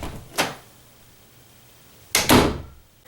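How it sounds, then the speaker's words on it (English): Bathroom door slammed shut, one sharp close bang early, then after a quiet pause a second heavier slam with a short rattling tail, fairly near in a small room. "That is a door slam."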